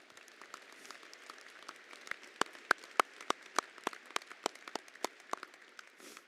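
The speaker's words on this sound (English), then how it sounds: "Please join me in giving a round of applause to our admissions team and our marketing team" A small audience claps at a university presidential inauguration ceremony at Black Hills State University. Distinct, fairly sparse individual claps ring out at a moderate level, and each hand strike stands apart.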